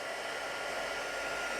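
A heat tool blows hot air to melt embossing powder on a stamped craft die piece, a steady close whooshing hum that holds constant throughout.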